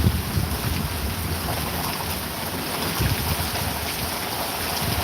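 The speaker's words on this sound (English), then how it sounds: "now the wind is blowing" Strong storm wind buffets the microphone outdoors near open water, a loud continuous rumbling roar with gusty swells and low thumps throughout, no talk.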